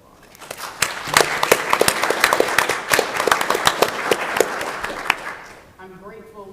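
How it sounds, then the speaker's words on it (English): An audience at a 25th-anniversary civil rights conference breaks into sustained applause, dense clapping that holds steady for about five seconds before tapering off as a speaker begins talking. "I think that deserves a round of applause."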